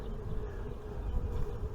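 Honeybees buzz around a frame from a Layens beehive, a soft, steady low hum from several insects close by, with no voices.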